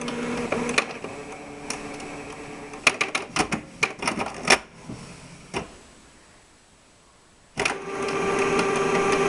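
Canon MP250 inkjet printer power-cycling after an error reset, giving off a run of sharp mechanical clicks and ticks, a short quiet gap, then a steady whirring hum as it starts up again.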